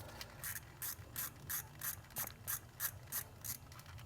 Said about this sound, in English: I think in this case the standard ratchet is perfect for the job